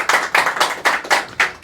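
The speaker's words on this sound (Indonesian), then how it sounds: "tepuk tangan" Audience applause at a live Indonesian comedy talk show, heard as a short burst of rhythmic, fairly close clapping in even pulses with no voices over it.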